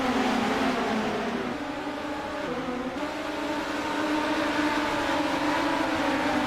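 Midget race cars roar around the Eldora dirt track during a green-flag start, a loud sustained engine drone that shifts pitch as they accelerate, with no talk over it.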